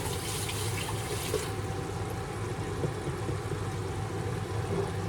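Tap water runs steadily into a sink while frozen spinach is rinsed for a vegetable soup, a continuous hiss with a low rumble, fairly close and without talk.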